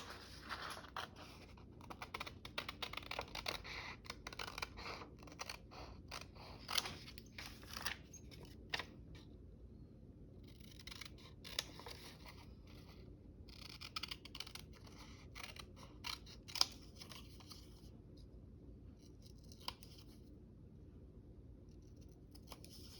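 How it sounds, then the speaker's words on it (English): Scissors snipping through paper cards in a quiet room, a steady run of small close crisp cuts with brief pauses and light paper rustling in between, no talking. "we can cut some of these out."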